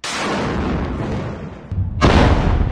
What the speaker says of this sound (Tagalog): Kasabay ng malalakas na pagsabog sa tumitindi pang laban ng Israel at grupong Hamas